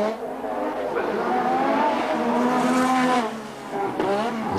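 A turbocharged BMW-powered Formula 1 car, driven by Nigel Mansell, runs with a rising and falling engine note as it weaves to warm its tyres, heard at a distance under continuous background noise.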